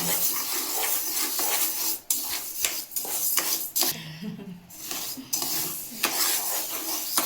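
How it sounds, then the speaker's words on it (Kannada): Sugar being stirred continuously in a pan as it melts for peanut chikki, with steady scraping and clinking of a utensil against the pan and a faint sizzle throughout, close and fairly loud. "ಸಕ್ಕರೆ ಹಾಕ್ಕೊಂಡು ಒಟ್ಟು ಬಿಡಬಾರ್ದು ನೋಡ್ರಿ, ಕೈ ಸರಗಿಸ್ತಾ ಇರ್ಬೇಕ್ರಿ."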